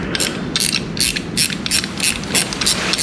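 A tensioner screw on a cylinder ridge reamer, used on a 1958 Case 600B tractor engine, is turned in a run of sharp ratcheting clicks, rhythmic bursts about every third of a second, close and loud.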